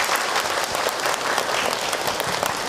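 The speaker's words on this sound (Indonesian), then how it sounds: "tepuk tangan dong buat Ibu Dani dan Dani" Dense applause fills a religious lecture hall as the audience claps for two guests, a steady wash of many hands sustained throughout without talk.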